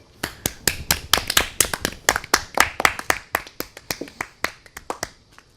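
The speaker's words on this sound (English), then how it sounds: "You could applaud." A small audience claps sparsely after a comedy impression, with sharp individual claps in an uneven, scattered rhythm, close and fairly quiet, slowly thinning out.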